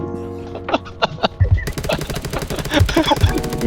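Gunfire in the video game Undawn rattles off in rapid, loud bursts of shots that keep going without a break.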